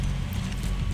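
Horse hooves clopping in Metal Gear Solid 5: The Phantom Pain, a steady run of muffled low thuds under a busy game soundscape for about a second.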